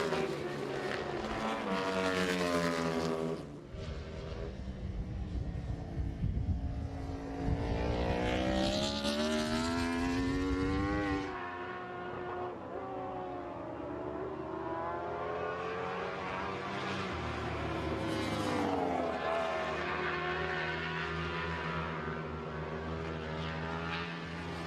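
Yoshimura Suzuki factory superbikes race at an AMA Pro SuperBike round at Barber, engines wailing and shifting as they pass close by, rising and falling pitch sweeps repeating with trackside roar.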